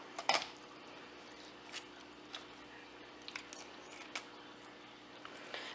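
Kitchen shears cutting through raw chicken bone along the backbone, giving a sharp crunching snip near the start and then scattered quieter clicks and cracks as the blades work through the carcass.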